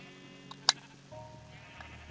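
A sheep in the Minecraft video game on PS3 lets out a short, sharp bleat amid quiet game sounds, with faint tonal background and no talk.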